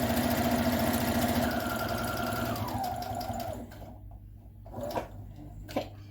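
A sewing machine stitches along the edge of a fabric face mask, running steadily and loud at first, then slowing and stopping for a pivot with a few light clicks and taps near the end.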